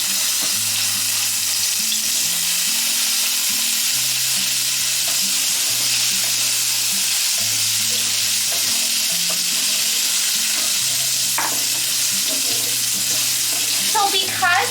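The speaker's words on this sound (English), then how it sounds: "I'm just going to fry the potato up a little." Potatoes fry in hot oil with panch phoron in a pan, a steady dense sizzle running throughout with occasional scrapes and stirring clinks, close and fairly loud, no talking.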